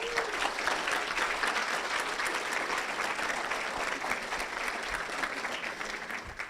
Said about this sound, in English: Can we get another round of applause for our winners so far?